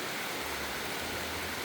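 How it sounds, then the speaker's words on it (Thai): Steady rain falling, a dense, even hiss of drops on surfaces with a faint low rumble underneath, continuous throughout and without voices. "บรรยากาศฝนตก ฝนตก"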